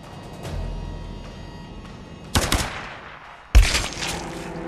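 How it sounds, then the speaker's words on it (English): Rifle shots in the Tomb Raider game, two sharp loud reports a second apart over a low ambient rumble, with fainter bangs earlier. "He's a pretty good shot at that rifle"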